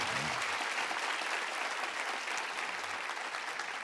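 A church congregation bursts into loud, steady applause, dense clapping sustained throughout with no voices standing out.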